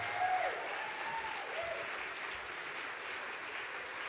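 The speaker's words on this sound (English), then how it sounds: "a big round of applause for Sean and his hosting of the event this y" Applause from the audience at a hospital radio awards ceremony, a faint, distant, even wash of clapping with a brief tonal sound near the start.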